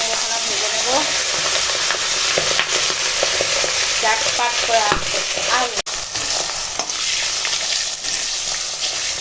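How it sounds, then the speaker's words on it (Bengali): A rohu fish head coated in salt and turmeric fries in hot oil with a loud, continuous sizzle and hiss, close up, while a voice briefly talks over it. "দেখো এখন রুই মাছের মাথাখানা ভাজা হয়ে গেছে"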